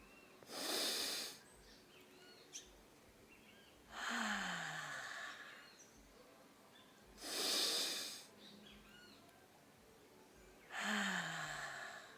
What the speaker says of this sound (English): Please acknowledge the breath that is conscious with all by breathing in 3 times with me.